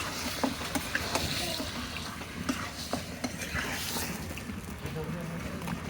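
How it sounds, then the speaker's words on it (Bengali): Meat is fried and stirred into a cooked-down spiced masala in a rustic village kitchen, giving soft sizzling and scraping stirs with occasional clinks of the pan, while a person talks over the cooking. "মশলাটা কষানো হয়ে গেছে এবার মাংসগুলো দিয়ে কষিয়ে নেব"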